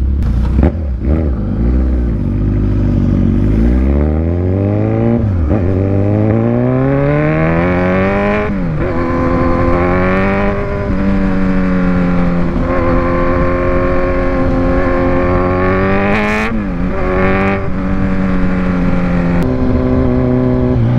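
A Kawasaki Z1000 superbike engine revs loudly up close, climbing from idle in long sweeping pulls that rise and fall repeatedly, with a rough mechanical growl throughout and no speech.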